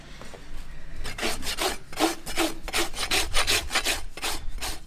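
A farrier trims and rasps a horse's hoof with a Mustad tool: a steady series of about a dozen close, scraping rasp strokes in even rhythm, each a bright rough burst, with no talking.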